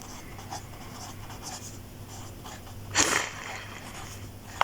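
A pen writing a phrase by hand on paper during an engineering circuit analysis lesson, a faint, steady scratching close by with a brief louder rustle partway through, and no talk.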